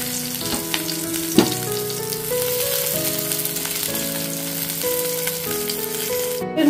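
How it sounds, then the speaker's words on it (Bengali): Cauliflower florets fry in hot oil until lightly reddish-browned, giving a steady, close sizzle that runs throughout, with sustained musical tones layered over it. "ফুলকপিগুলো আমার ফ্রাই হয়ে গেছে, হালকা লালচে কালারটা চলে এসেছে।"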